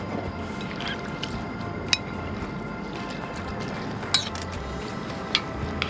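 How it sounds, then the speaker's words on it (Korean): Tongs mix pot rice with pork tenderloin in a pot outdoors in a pine grove, giving wet squishing and occasional metallic clinks over a steady low background hum. "고기가 위로 올라오게 요걸 섞어"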